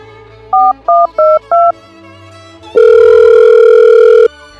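A telephone is dialed with four short, evenly spaced keypad beeps. After a brief pause, one long steady ringing tone follows, clear and close with no voices.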